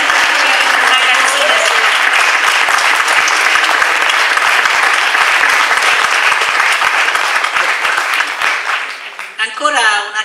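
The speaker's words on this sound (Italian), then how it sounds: "applauso al nostro grande maestro che ci ha fatto un concerto." Loud, sustained applause from a theatre audience after a choir concert, dense and even, fading out near the end as a voice begins to speak.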